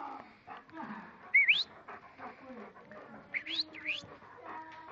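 A dog whines and yelps in high, squeaky bursts, two louder cries standing out amid softer whimpering nearby.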